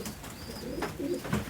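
A male pigeon over two years old, a pure Indian Lal chilli Ambarsariya bird, gives soft, low coos in a short close burst, faint and alone without talk.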